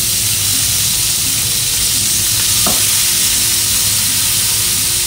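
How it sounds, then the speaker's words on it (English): Garlic frying in a frying pan gives a constant loud, close sizzle and hiss throughout, with a brief clink of stirring partway through. "In the same frying pan, add the garlic and fry for 2 minutes."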